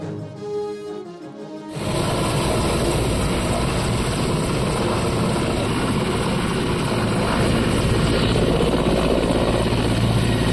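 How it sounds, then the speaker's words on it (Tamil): A loud, steady roar of Indian Air Force helicopter rotors and engines landing fills the scene after a brief quieter opening, continuous and close with no speech. "இந்திய விமானப்படைக்கு சொந்தமான ஹெலிகாப்டர்கள் இறங்கி சோதனை"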